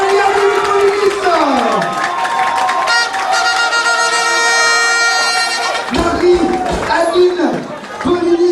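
A crowd at a school beauty pageant final cheers and applauds as a contestant walks out, loud sustained clapping and shouts with a musical tone sweeping beneath, and an announcer's voice cutting in near the end.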